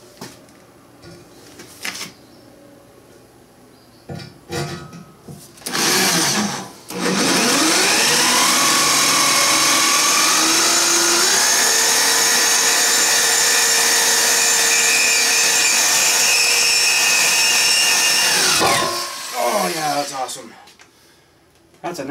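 A power drill runs at full throttle through 3/8 inch thick plate while building a removable tooth plate, a loud steady whine that climbs in pitch as it bites, sustained for about twelve seconds before spinning down.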